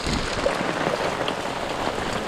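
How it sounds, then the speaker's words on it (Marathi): Heavy rain pours down in a Konkan village, a loud unbroken wash of drops hitting surfaces nearby, steady and dense from start to finish. "अचानक पाऊस झाला"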